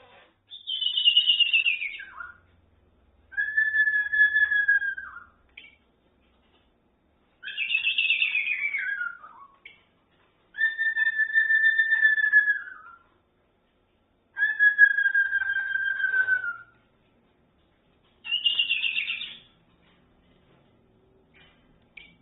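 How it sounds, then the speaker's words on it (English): A bird whistles six separate times, each drawn-out call sliding through clear, loud tones with silent gaps between, heard alone with no other sounds around it. "Whistle, whistle."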